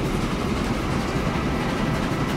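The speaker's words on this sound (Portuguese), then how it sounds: "Uma Maria Fumaça já mais moderna." A steam locomotive from around 1876 rolls along in Transport Fever, a loud, continuous rumbling roar of wheels and engine with a faint clattering rhythm, steady and close, no voices.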